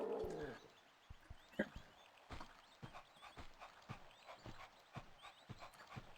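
A dog enemy in the video game Tomb Raider 2 Remaster growls and pants, followed by a steady series of quick padded footfalls or clicks, fairly quiet against the game's backdrop with no talking.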